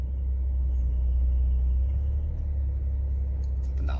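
Low, steady engine rumble from a Porsche 911 4S Cabriolet creeping forward in a parking maneuver, a continuous close drone with no speech over it.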